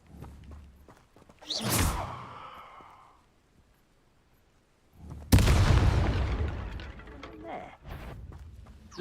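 An Incendio fire spell is cast in Hogwarts Legacy, a sudden loud whooshing burst that roars on for several seconds after an earlier swishing spell sound.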